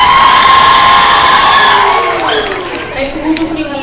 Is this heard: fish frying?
no